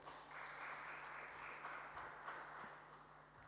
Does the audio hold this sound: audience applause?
yes